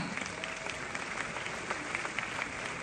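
Audience applause rings out at the preview screening of the film Everybody Loves Touda, steady and continuous clapping heard at moderate distance.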